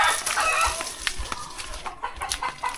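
Native chickens cluck and crow close by, with a rooster's call over busy clucking and outdoor background noise, loud and continuous.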